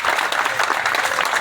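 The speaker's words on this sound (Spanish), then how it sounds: "Un fuerte aplauso para" A crowd applauds steadily and loudly for the formal mototaxi drivers of Micaela Bastidas at a public event during a street repaving ceremony, the clapping dense and sustained throughout.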